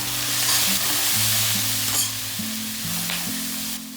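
Bok choy and mushrooms stir-frying over a high flame, a steady broad sizzle with intermittent stirring and tossing, close and fairly loud throughout, with a low tonal hum running underneath.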